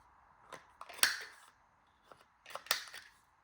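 A corner rounder punches the corners of card stock in two sharp, crisp clicks about a second and a half apart, each preceded by small handling rustles, close and clear in a quiet room.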